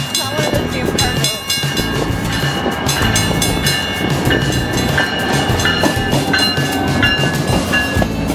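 A short train rolls past at close range in Albuquerque, a loud, steady rumble and clatter of rail cars that fills the whole stretch without letup.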